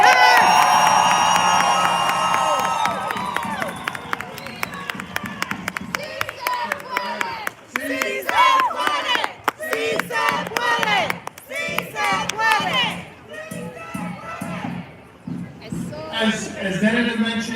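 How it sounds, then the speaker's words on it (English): A crowd at an outdoor rally at Rosa Parks Circle in Grand Rapids claps and cheers loudly at first, then the noise thins into scattered shouts and voices and a person speaking over the fading crowd. "So give them another applause."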